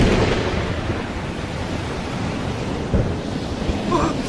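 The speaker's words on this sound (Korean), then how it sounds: "폭풍이 몰아치고 있습니다!" A thunderstorm at sea in a dramatized scene of ships anchored offshore, a dense roar of rain, wind and surf filling the whole clip with low rumbling swells, loud and continuous.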